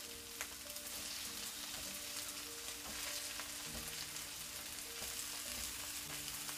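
About 200 grams of ground beef broken up and frying in a pan as its fat renders, for an eggplant dish. It makes a faint, steady crackling sizzle with soft, rain-like spatter, heard alone without voices.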